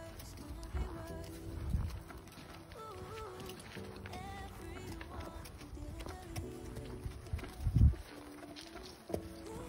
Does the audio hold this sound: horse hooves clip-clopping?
yes